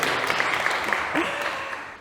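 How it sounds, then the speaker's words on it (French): An audience at a business masterclass gives brief, lively applause, a dense patter of clapping with a faint voice surfacing partway through. "on peut applaudir ceux qui ont gardé la main levée"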